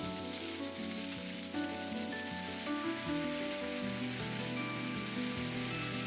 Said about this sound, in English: I'm going to add in the shallot. And then the shrimp. We're going to stir fry it